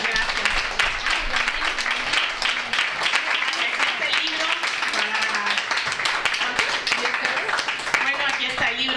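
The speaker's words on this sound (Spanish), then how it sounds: "Un aplauso" Audience applause after a feminist book discussion event, brisk continuous clapping from a modest crowd, close and even throughout with occasional voices underneath.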